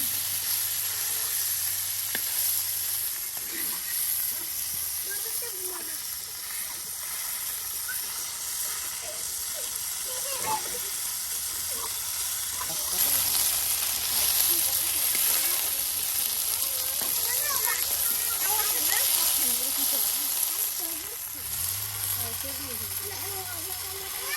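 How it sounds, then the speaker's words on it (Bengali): Taki fish frying in a pan for a village-style mashed fish dish, a steady close sizzle and hiss of hot oil that swells midway, with faint rustles over it. "এই যে এখন আপনার টাকি মাছ ভর্তা করার জন্য এই যে প্রথমে এইগুলি ভাজি করে নেওয়া হচ্ছে"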